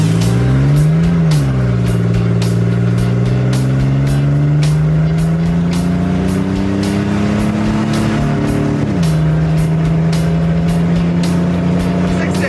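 A GMC Typhoon hot rod launching and accelerating hard, its engine loud and close in a sustained roar that climbs steadily in pitch, drops briefly at a gear shift, then keeps pulling, with a faint voice underneath.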